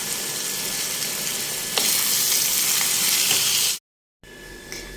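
Ground meat seasoned with salt, black pepper and grated tomato sizzles steadily in a pan, a loud, continuous frying hiss that cuts out abruptly for a moment before resuming.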